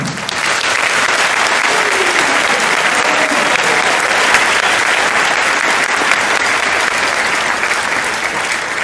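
A church crowd at a parish's 50th jubilee celebration gives the archbishop sustained, dense applause, loud and steady from start to finish.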